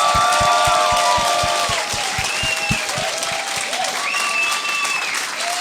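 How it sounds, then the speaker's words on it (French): A studio audience applauds loudly to welcome guests onto a talk show, with dense clapping and some cheering, while rhythmic thumping beats and a melodic music line play along. "J'aimerais ça qu'on leur donne une bonne main d'applaudissement."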